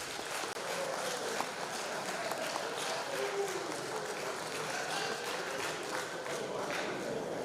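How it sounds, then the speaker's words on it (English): An audience in an auditorium gives a sustained round of applause, a steady, even patter of many hands at moderate distance. Some voices are heard faintly beneath it. "they deserve a round of applause"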